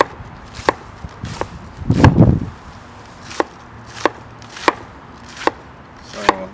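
A Clever Cleaver chops cabbage into fine julienne on a cutting board, giving a series of sharp, evenly spaced chopping knocks with a brief rustle of cabbage in between, close and loud.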